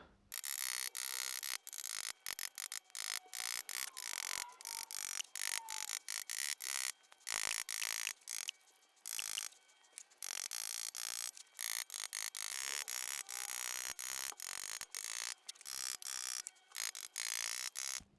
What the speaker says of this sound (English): So I'm going to loosen off these rings.